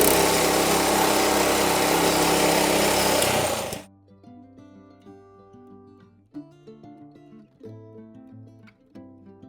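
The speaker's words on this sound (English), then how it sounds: "the turf machine normally cuts quite deep" Turf cutting machine with its own gearbox running loud and close as a dense engine roar for about four seconds, then cutting off abruptly, leaving only faint tonal background sounds.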